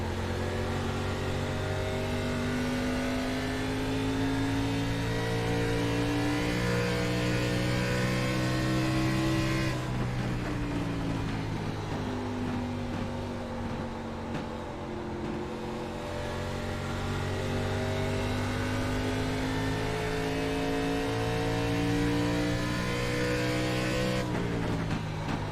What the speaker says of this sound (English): You can hear how early they left one of the corners to try and slow that car down